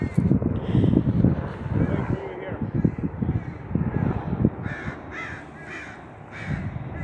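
Crows caw repeatedly in a daytime cemetery, harsh calls ringing out at moderate distance over light wind, while people talk nearby.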